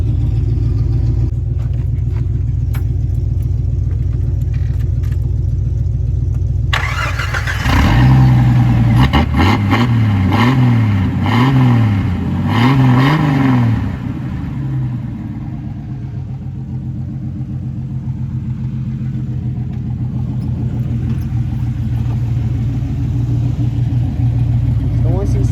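A truck fitted with flex-sealed 35-inch mud tires starts up and revs loudly, its engine rumbling at idle before climbing through several throttle blips and settling back to a steady, close warm-up idle.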